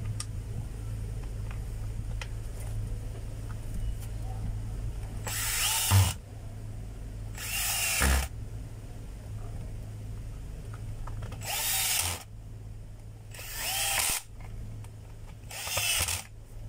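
Makita DWP849X cordless power drill driving in a screw, several short bursts of whirring separated by pauses, close and fairly loud over a low steady hum.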